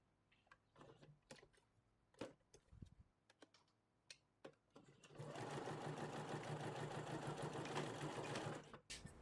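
A sewing machine stitches an 18-inch doll's dress: scattered clicks and taps first, then a loud, continuous whirring run of stitching for several seconds before stopping.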